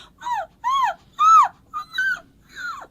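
A voice imitates a tiny, distressed puppy's whine: five high, strained squeals with bending pitch, separated by brief pauses.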